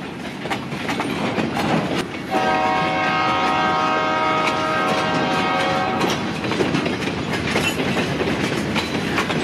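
A freight train pulled by two locomotives rumbles past with rattling wheels while its horn sounds one long chord for several seconds, loud and near.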